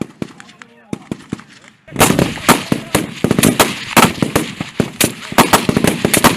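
Army training at a shooting range: rifle gunfire at targets, a few isolated sharp shots followed by dense rapid bursts of loud, close fire.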